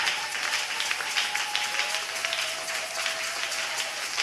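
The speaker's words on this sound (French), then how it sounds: "Nous acclamons très fort le roi des gloires." A church congregation claps in sustained, fairly loud applause at a religious gathering, a dense, even patter of many hands heard from within the crowd.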